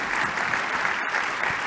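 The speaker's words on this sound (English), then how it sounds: "I'd like to have everybody give a round of applause for Anant Yardi." A conference audience at a real estate industry general session gives steady, dense applause, many hands clapping together loudly and without pause.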